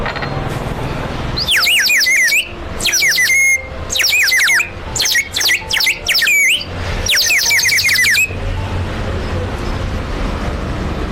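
A clay water-filled whistle toy, sold among Channapatna wooden toys, is blown in several loud bursts of rapid, warbling bird-like trills, separated by short pauses and set against low background hum.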